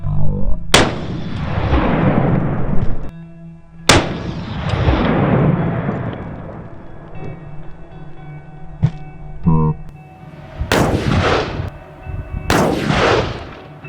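Smith & Wesson Performance Center .500 Magnum revolver with a compensator firing four very loud, close booming shots spaced a few seconds apart, each with a long rolling echo, plus a faint click between them.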